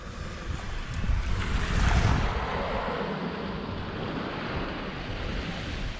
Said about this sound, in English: The sea has been churned up quite a bit